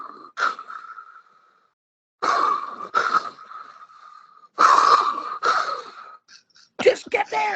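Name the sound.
person imitating heavy breathing inside a helmet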